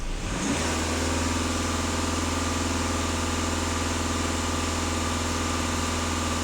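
A VW Passat with a 2.0 TDI diesel engine starts revving up from idle to a steady raised engine speed, holding a loud continuous droning hum close by.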